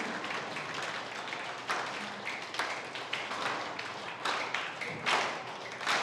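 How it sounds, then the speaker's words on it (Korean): Audience at the 2025 Gimcheon Cup pro bowling tournament claps for the newly crowned champion, a steady patter of applause with scattered louder claps and taps, no voices over it. "드디어 챔피언을 거머쥔 김경범 선수에게 여러분 박수 한번 부탁드리면서"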